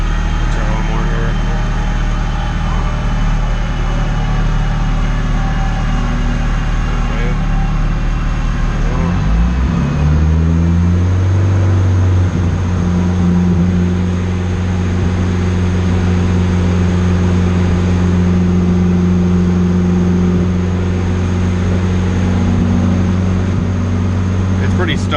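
A Honda Integra engine runs on a dyno with a stumbling, uneven idle-to-cruise tone, a steady droning hum that shifts pitch partway through and settles into a lower sustained note, with a voice talking over it.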